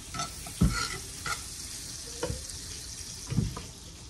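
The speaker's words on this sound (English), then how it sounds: "Now we just put down some butter." Butter sizzles in a hot pan with a continuous soft hiss, broken by a few dull knocks and scrapes of a utensil moving it around.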